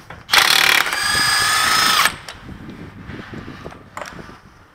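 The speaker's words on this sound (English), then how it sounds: "Let's go ahead and take our axle nut off." A ratchet loosens the 35 mm rear axle nut on a 2003 Ford Expedition: a loud, close clicking burst of about two seconds, followed by quieter handling noises and a brief click near the end.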